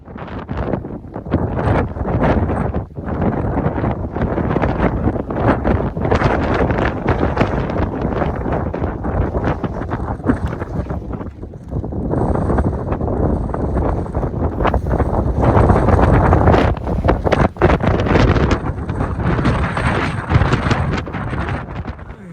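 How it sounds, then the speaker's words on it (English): Strong, gusty wind buffets the microphone on a mountain trail of the Pacific Crest Trail between Cabazon and Big Bear, a loud continuous roar that dips briefly and then swells again. "It's really windy."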